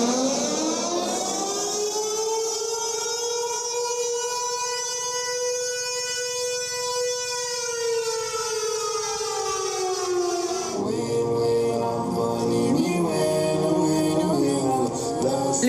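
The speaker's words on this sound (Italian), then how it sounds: "Le sirene a tutto volume" Sirens wail at full volume during a street flash mob protest, one long rising and falling civil-defense-style tone sweeping for about ten seconds, then overlapping siren tones take over, loud and continuous.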